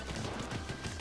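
Rapid weapon fire in the Splatoon 2 video game, a quick run of repeated shots packed into a second, steady and fairly faint with no voices.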